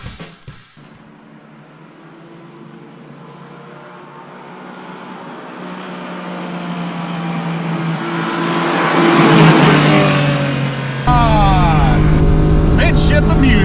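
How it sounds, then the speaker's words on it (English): A 1991 Honda Beat, a mid-engine open-top kei sports car, drives past with its small engine rising steadily in pitch and volume before a louder, busier stretch near the end. A voice speaks briefly over the engine at the start. "Welcome to the 1991 Honda Beat, Japan's first open-top mid-engine K sports car."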